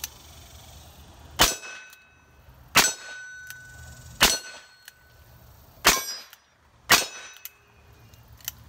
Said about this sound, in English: the best way to test a plinking round is to plink it on steel